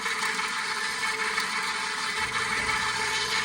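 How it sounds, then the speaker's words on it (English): A stand mixer kneading sticky doughnut dough gives off a steady, close motor whir with a constant mechanical hum, running alone without talk. "you're going to let it knead in the mixer for 4 to 5 minutes"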